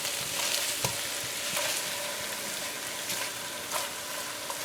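Salted boiled breadfruit pieces frying in a pan while being stirred, a steady close sizzle with occasional scraping taps of the spoon, no talking.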